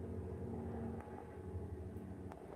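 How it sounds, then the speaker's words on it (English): A helicopter flying overhead, heard as a faint, steady low droning hum with a throbbing rotor-like pulse, distant and continuous throughout without any voices. "Here comes a helicopter again."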